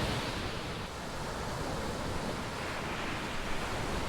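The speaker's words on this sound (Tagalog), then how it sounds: "ang lakas ng alon dito" Steady roar of strong ocean surf washing in continuously at Pasacao, broadband and close, with no breaks or voices.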